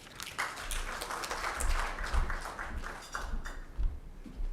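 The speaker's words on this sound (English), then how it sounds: "A round of applause again to him." Audience applause at a World Malaria Day event in Kenya, a short burst of steady clapping from a crowd in a hall, moderately loud with a few sharper claps standing out.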